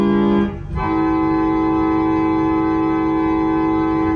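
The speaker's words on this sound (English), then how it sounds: "Let's try that with the 8-foot principal." Church pipe organ on an 8-foot principal stop, a bright sustained chord that briefly changes after a short dip, then holds steady and full.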